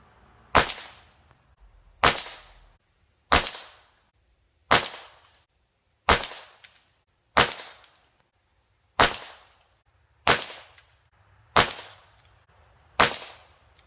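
An Umarex Komplete NCR air rifle fires ten Crosman Premier Domed Ultra Heavy pellets at steady intervals of about a second and a half. Each shot is a sharp, loud crack with a short tail, and there is near silence between shots.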